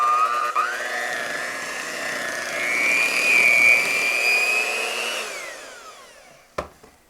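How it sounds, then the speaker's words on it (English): Blender whirring through fudge truffle cheesecake batter, motor pitch climbing and holding steady for several seconds before winding down, followed by a sharp knock near the end. "Now I'm going to blend this until it's kind of smooth."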